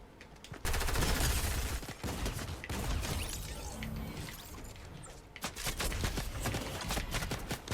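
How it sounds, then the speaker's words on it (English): Gunfire during a Fortnite Star Wars live event, dense bursts of rapid shots crackling in close succession, easing off in the middle before another heavy volley. "Who's shooting at me?"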